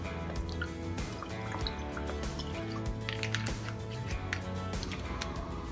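Worcestershire sauce poured into an electric cooking pot, heard as a close run of quick drips and small splatters over a steady tonal hum lasting a few seconds.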